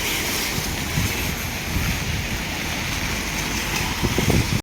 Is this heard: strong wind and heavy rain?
yes